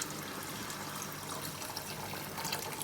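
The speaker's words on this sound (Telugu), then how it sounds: "హాట్ వాటర్ అయితే వేసుకున్నాము." Hot water pours steadily into a cooking pot of mutton for Hyderabadi mutton dum biryani, a continuous close splashing flow lasting the whole moment with no talk.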